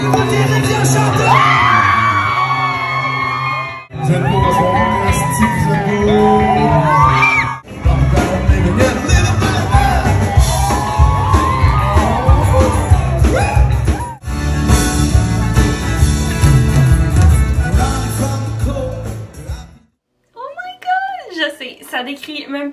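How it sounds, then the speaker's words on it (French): A concert crowd at a Tailgate Radio show shouts, whoops and sings along loudly for about twenty seconds, dense and close, with a few brief drops in level before it cuts to quieter sound at the end. "la foule qui crie, qui chante"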